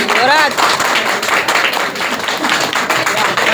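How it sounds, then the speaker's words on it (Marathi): Dense applause from an audience honouring a guest at a Ganesh Krida Mandal golden jubilee function, steady and fairly loud throughout, with a voice speaking over it at the start. "टाळ्या वाजव रे. टाळ्या जोरात झाला पाहिजे."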